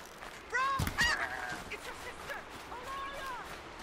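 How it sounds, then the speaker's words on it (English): A goose honks in the video game Horizon Zero Dawn, a few nasal honks close together then a fainter honk later, set against ambient game sound with a voice talking alongside. "I caught myself a goose."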